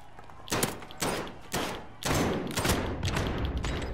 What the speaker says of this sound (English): Why won't any of my shots hit?